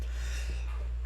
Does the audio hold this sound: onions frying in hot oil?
no